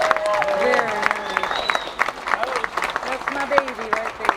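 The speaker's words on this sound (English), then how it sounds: "let's keep the applause coming" Wedding guests clap and cheer after a best man's speech, a sustained crowd applause with voices talking and calling out over it.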